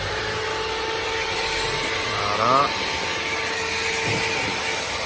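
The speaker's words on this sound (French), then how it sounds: "On démarre l'aspirateur à vapeur." A steam vacuum cleaner runs with a steady whooshing hum and faint whine while cleaning a Mitsubishi car interior; a person says a brief word in French partway through.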